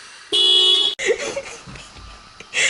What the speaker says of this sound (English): I accidentally hit the alarm button on my car.